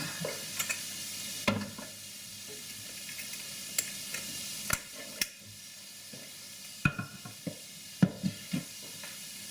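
Floured rabbit pieces stirred in hot oil in a pan, with a steady sizzle and frying hiss broken by repeated sharp scrapes and knocks of the utensil against the pan, close and clear.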